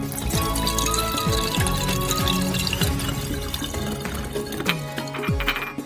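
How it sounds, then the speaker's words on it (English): Alcohol from two bottles glugs and splashes into a flask packed with dried mint and gauze, with repeated gurgling pulses and liquid filling sounds, close and steady. "Pour 2 bottles of alcohol into the flask."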